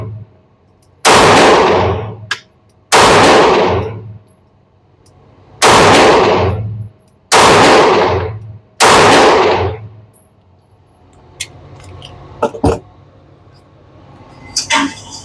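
Five loud, close gunshots from a Taurus G2C/G3C pistol fired at a steady pace with short gaps, each ringing out briefly, followed by a few fainter clicks and clanks.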